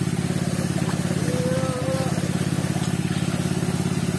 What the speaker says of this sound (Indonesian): Ini mesin Robin dihidupkan, nanti airnya masuk ke situ teman-teman.